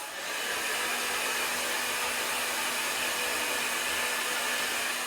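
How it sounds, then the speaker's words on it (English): A hair dryer blows steadily at close range, a constant breathy whoosh with a faint motor hum, starting up and running without pause. "you can even blow your paper dry with your hair dryer from the toilet"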